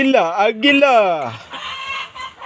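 Rooster or hen of the igtatari fowl breed gives a loud, close drawn-out call with falling pitch, followed by softer clucking and farmyard noise, with no talk.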